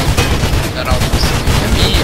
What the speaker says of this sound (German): Oh, ich hab das Maschinengewehr.